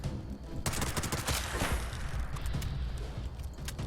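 Automatic fire from a handmade rifle in the video game Fallout 76, a rapid burst of sharp close shots followed by a few more scattered single cracks.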